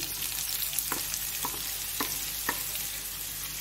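Carrots go into a pan of Bengali vegetable fried rice, bringing a steady sizzle of frying with a few soft stirring scrapes at intervals, close by and moderately quiet.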